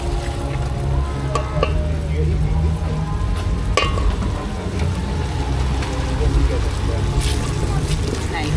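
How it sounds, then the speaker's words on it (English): A pot of a Kenyan dish is stirred while peanut paste goes in, with a steady low scraping and a faint sizzle under a continuous busy background, plus a few sharp clinks along the way. "so before I add in my peanut paste, I'm gonna be stirring this"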